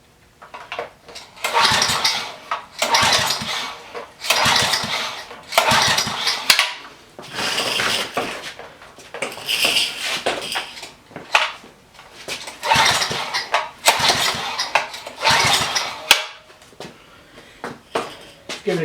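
Repeated pull-start attempts on a Coleman Powermate pressure washer engine, with choke and primer set, each tug a short burst of rattling mechanical noise, close and loud, in a steady series with no clear catch into running.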